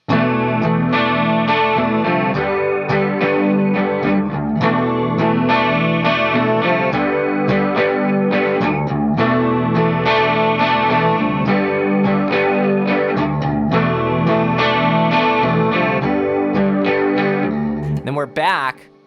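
Electric guitar strumming the pre-chorus chords of a song through chorus and distortion effects, a steady, loud run of rhythmic chord strums that rings out and stops abruptly near the end.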